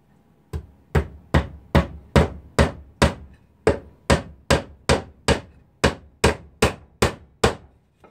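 A hammer driving a nail into wood in a shop, about fourteen sharp, evenly paced strikes with a short pause partway, loud and close with no voices.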